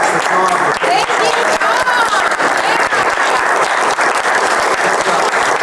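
Audience applauding at the close of a press conference and panel discussion in Martinsburg, loud and close, a dense crowd of clapping hands with voices and cheering mixed in throughout.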